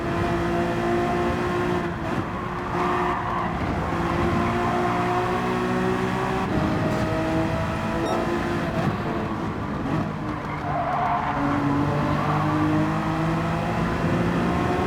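Race car engine in a racing game at Watkins Glen short course, a steady loud whining drone that rises and falls in pitch through gear changes and throttle application, continuous throughout.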